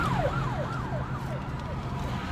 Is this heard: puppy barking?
no